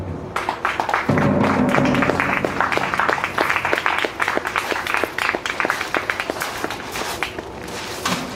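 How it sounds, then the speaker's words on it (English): Loud, dense clapping from an audience at a poetry reading in a bookstore, sustained for several seconds with a steady rattling texture. "a big round of applause for Cliff Fyman."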